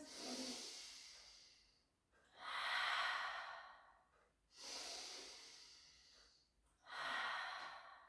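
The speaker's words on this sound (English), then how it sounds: "Take a breath in through the nose." Slow, deep breaths in through the nose during a rehab pilates session, four long airy hisses separated by quiet pauses, close and soft, with no talking.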